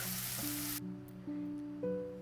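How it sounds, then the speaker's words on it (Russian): Half an onion sizzles in vegetable oil in a frying pan, a dense hiss for under a second that drops away, leaving a steady low hum with shifting tones. "На сковородку я наливаю растительное масло и отправляю сюда половинку нарезанной луковицы"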